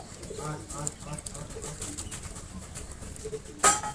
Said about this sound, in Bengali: প্রথমে আমরা মেল কবুতরটি নিয়ে নেব